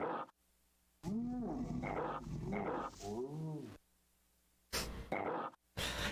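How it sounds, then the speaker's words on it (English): A character in the EverQuest video game lets out moaning, whale-like calls, several long wavering groans separated by quiet gaps, loud and close, followed by short noisy bursts. "He makes, like, whale sounds."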